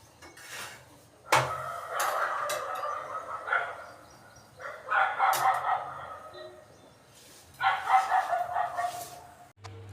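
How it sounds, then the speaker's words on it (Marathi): Several dogs in a housing society bark in repeated bursts at a moderate distance, with pauses of quiet between the outbursts. "आमच्या सोसायटीमध्ये जवळजवळ वीस कुत्रे आहेत"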